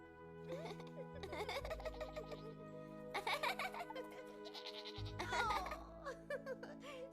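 A goat in a children's cartoon bleats loudly and repeatedly, wavering cries close up over a soft musical background, with no talk.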